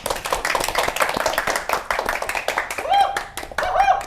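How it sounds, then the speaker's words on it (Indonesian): An audience claps to welcome an invited guest, a burst of brisk, uneven hand claps close by, mixed with overlapping voices and a few whoops over the short stretch. "Beri tepuk tangan yang meriah."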